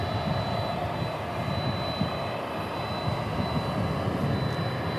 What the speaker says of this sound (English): This 767 is also headed to Louisville.